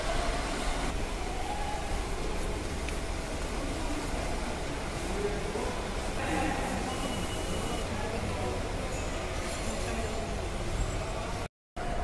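Delhi Metro train at Kashmere Gate station, a steady continuous rumble of rail and station noise filling the whole stretch, fairly close, with people's voices mixed into the busy background.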